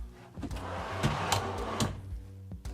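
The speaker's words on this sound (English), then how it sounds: "And then our pantry, fully lit, 6 pull-out drawers." A wooden dovetailed pantry pull-out drawer slides open in a 2022 Newmar New Aire 3543 motorhome, a short run of soft rolling and knocking sounds close by.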